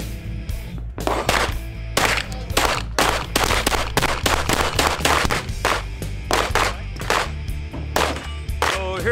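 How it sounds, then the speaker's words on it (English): Rapid shots from a Glock 44 .22 caliber pistol at a shooting range at SHOT Show 2020, a steady string of sharp close cracks firing about twice a second and continuing throughout with no talk. "just got done shooting the Glock 44 22 caliber"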